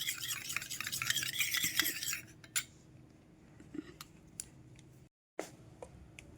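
A spoon stirs a homemade coconut milk soap mixture in a bowl, brisk scraping and clinking for about two seconds, then sparse faint taps and knocks in a quiet room.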